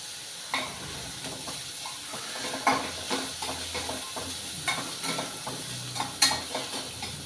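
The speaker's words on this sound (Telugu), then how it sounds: "ఇవి బ్రౌన్ కలర్ వచ్చినంత వరకు వేయించుకోవాలి ఇలా ఎర్రగా వేయాలి" Crushed ginger and garlic frying in a pan for an eggplant and chana dal curry, with a steady sizzle broken by repeated scraping stirs of a spoon against the pan, close and moderately loud, no talking.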